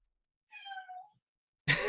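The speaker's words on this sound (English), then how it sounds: "I'm loving these little meows." A single short cat meow, soft and clear against silence, followed right after by the start of a voice.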